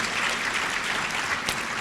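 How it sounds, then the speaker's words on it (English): An audience at a scholarship awards ceremony applauds in a steady, moderately loud burst of clapping. "Round of applause, please."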